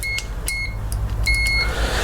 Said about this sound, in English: got my multimeter set to continuity, I think, whatever, where it beeps